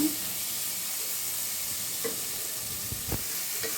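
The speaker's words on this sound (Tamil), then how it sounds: "இப்போ இதே நல்லா ஃப்ரை பண்ணிடலாங்க." Chopped tomatoes frying in a pan for drumstick poriyal, a steady close hiss and sizzle with a few soft stirring scrapes and no voice.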